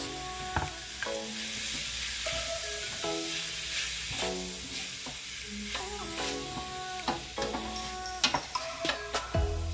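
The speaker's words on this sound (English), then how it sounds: "I'll just continue to stir it down, cook it down like so." Diced chicken for fried rice sizzles steadily in a hot pan while a utensil scrapes and clatters as it is stirred, with sharp clinks scattered throughout.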